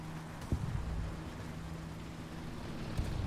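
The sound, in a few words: tank engine running in War Thunder video game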